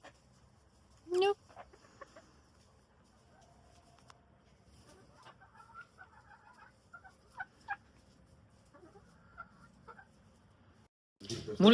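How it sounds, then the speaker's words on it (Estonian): Chickens, including a small white hen, cluck in short scattered bursts with a sharp squawk early on, close by amid quiet household background noise. "Sina ka väike valge kana."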